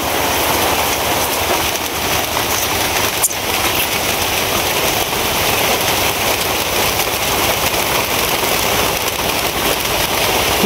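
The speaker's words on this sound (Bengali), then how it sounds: "বৃষ্টি শুরু হয়ে গেছে" Heavy rain falls outdoors at a home as wind picks up, a loud, dense, unbroken roar of drops hitting surfaces close around.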